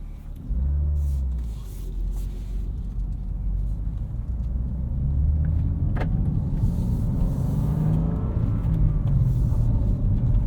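A 2023 BMW M2 with manual transmission hums low and steady, then swells as it pulls away and gradually gathers speed, heard from inside the cabin.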